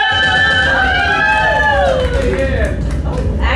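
A crowd at a community event launch cheers loudly and continuously for a woman from the mayor's office, with whoops and rising and falling shouts over a dense wall of noise.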